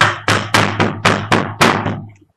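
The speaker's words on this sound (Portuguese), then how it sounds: "Ela foi acordada pelo monstro que batia a porta." A monster knocking on a door as an audio drama effect: seven loud, heavy knocks in a steady, even rhythm, each with a short booming decay, then silence.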